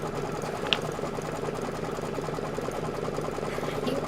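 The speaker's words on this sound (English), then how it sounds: "This is going to be 5 minutes of stitching." A home sewing machine runs a steady, continuous stretch of stitching on a Kimberbell Cup of Cheer sew-along project, its even mechanical whir close and alone, with no voices.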